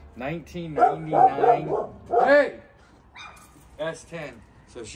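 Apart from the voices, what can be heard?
dog barking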